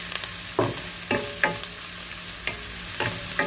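Spicy beef caldereta with bird's-eye chili is stirred in a pan, its soft sizzle broken by about seven distinct scraping strokes of the spoon at an uneven pace, close and clear.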